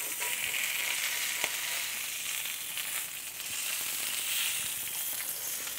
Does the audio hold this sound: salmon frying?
yes